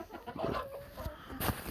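Rooster giving a few short, soft clucks close by in a quiet indoor setting, with a brief louder rustle near the end.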